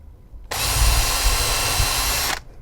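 A power drill whirs steadily for about two seconds while driving a screw into model railway track, starting and stopping abruptly, close and loud with no talk.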